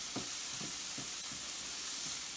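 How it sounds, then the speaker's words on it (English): Onions, garlic and mushrooms sauté in a little bacon grease in a fry pan, giving a steady soft sizzle with a few faint stirring scrapes, close and alone. "in my fry pan, I have onions, garlic, and mushrooms, and I'm just sauteing that in a little bit of bacon grease"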